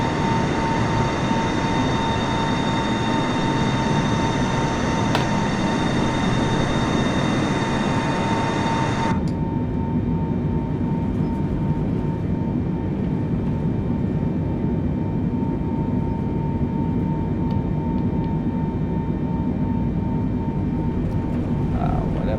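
The landing gear of a Boeing 747-8i retracts in a flight simulator. A loud, steady rush of engine and airflow noise abruptly drops to a duller, quieter roar partway through. There is no talking.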